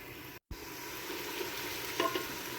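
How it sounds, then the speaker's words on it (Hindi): Masala fries in a pot with a low, soft sizzle and faint stirring scrapes, close and quiet, briefly cutting out near the start and ending on a sharper clink, no voices. "मसाला हमारा अच्छे तरीके से भुन रहा है।"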